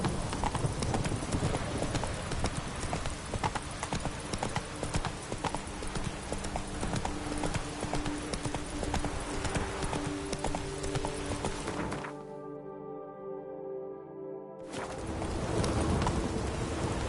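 Horse hooves from The Witcher 3 clip-clop steadily in a fast galloping rhythm, loud and close, dropping out briefly before resuming.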